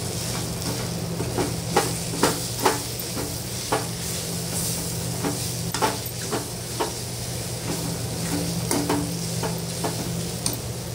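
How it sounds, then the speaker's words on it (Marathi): A spoon stirs mashed roasted eggplant with green chili for Maharashtrian vangyache bharit in a pan, giving a steady run of soft, wet scraping strokes with sharper clicks at regular beats over a low sizzle, close and alone. "आणि आता ही कुस्करलेली वांगी जी आहेत ती याच्यामध्ये टाकायची आणि सगळं एकजीव करून घ्यायचं आहे"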